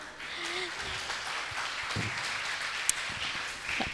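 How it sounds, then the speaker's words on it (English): Moderate audience applause welcoming a guest lecturer, a soft continuous patter of clapping in a hall with a few faint voices and a brief sharp click partway through. "And give applause to him right now."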